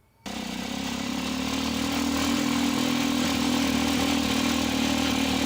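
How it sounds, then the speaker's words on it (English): Homemade helicopter built from scrap metal by a motorcycle mechanic in Uganda, its engine kicking in abruptly after a brief silence and then running in a steady, loud, rough drone with a constant mid-pitched hum. "A homemade chopper, built locally from scrap metals."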